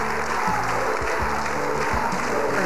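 TV studio audience applauding on a Spanish television show, a steady dense wash of clapping throughout with low vocal tones mixed underneath.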